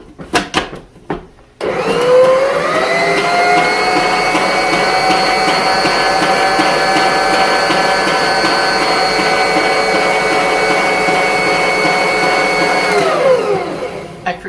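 An electric mixer whirs steadily through keto sandies cookie dough made gluten-free and sugar-free with one egg, starting abruptly, running as a loud, even hum for about eleven seconds, then winding down.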